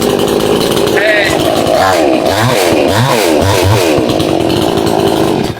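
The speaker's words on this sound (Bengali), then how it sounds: "সুইচে গাছ কাটার মেশিন স্টার্ট দিবে। এই দেখেন, এই যে স্টার্ট দিন।" A self-starting 62cc chainsaw with a 36-inch bar fires up and runs, a loud, buzzing two-stroke engine revving up and down in several surges, close to the mic, with some talk underneath.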